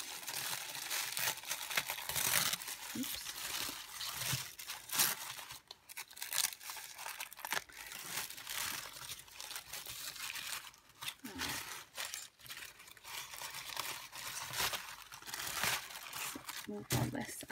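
Tissue paper rustles and crinkles as it is unwrapped from a gift, with soft tearing and crumpling sounds running steadily throughout while a person talks over it.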